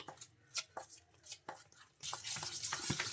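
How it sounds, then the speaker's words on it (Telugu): Biscuit dough is mixed by hand until creamy, with quiet rhythmic scraping and stirring strokes in a bowl that become busier and more continuous in the final second. "మొత్తం ఇలా బాగా కలిపేసుకోవాలి"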